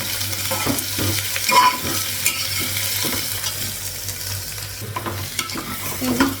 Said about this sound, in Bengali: পেঁয়াজটা লাগালাম রসুন আর হচ্ছে কাজু বাদামটা লাগালাম, হালকা করে একটু ভেজে নিব